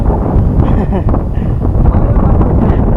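Strong wind on Twin Hill in Angono, Rizal, Philippines roars and buffets the microphone continuously, a loud rumbling rush with no letup.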